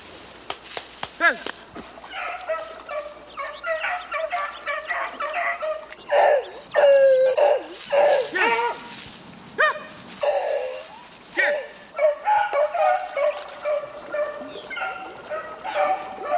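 Several beagles bay and yelp in repeated bursts while trailing a hefty swamp rabbit through wet ground, the calls rising and falling in clusters against a steady high insect drone.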